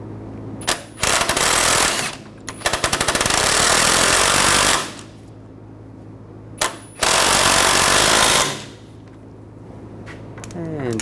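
Loud bursts of an impact wrench tightening the front strut nut and bolt on a 2007-2013 BMW X5, two long hammering runs plus short blips, with quieter garage sound between.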